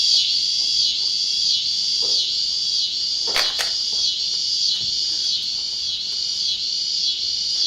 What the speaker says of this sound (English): Those are terrestrial crickets.